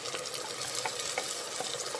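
Onions frying golden in a pan with curry leaves and green chillies, a dense, even sizzle with quick stirring scrapes close up, no voices.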